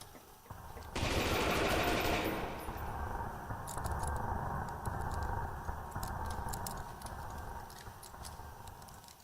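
A shotgun firing in the horror video game Lost in Vivo, a loud burst of gunfire near the start followed by a rumbling aftermath and scattered sharp clicks and taps.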